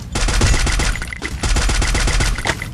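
Rapid automatic gunfire from the Free Fire battle royale game, loud and close, firing in quick bursts with brief pauses between them.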